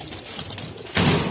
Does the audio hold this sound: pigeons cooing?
yes